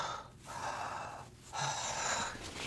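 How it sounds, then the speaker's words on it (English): Two slow, deep belly breaths, each a long breathy inhale and exhale heard close to the microphone, separated by short pauses with no talking. "just take a few deep belly breaths"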